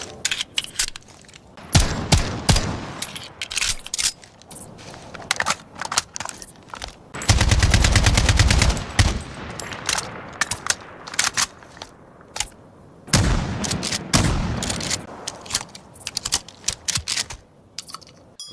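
Rapid automatic gunfire and single shots from Call of Duty: Modern Warfare (2019), using sounds recorded from real firearms at shooting ranges. Loud bursts of machine-gun fire and crackling reports repeat across the clip with short gaps between volleys, and no voices are heard.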